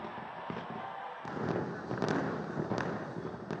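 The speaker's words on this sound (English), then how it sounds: "where the first fireworks of 2024 illuminated the cloudy night" Fireworks burst over Auckland on New Year's night, a steady rumbling wash of distant explosions with several sharper cracks standing out, heard from afar without talk.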